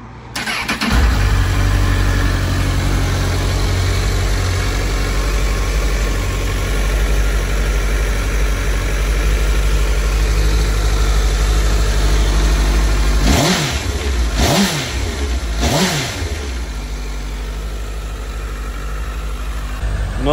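A 2017 motorcycle engine idles loud and close in a steady low rumble, then revs sharply three times in quick succession before settling back to a steady idle.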